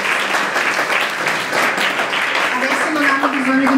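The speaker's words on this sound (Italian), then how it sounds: "un applauso a tutti voi che scegliete di sposarvi" Audience applause fills a gala hall, a dense steady wash of clapping throughout, with a voice speaking over it near the end.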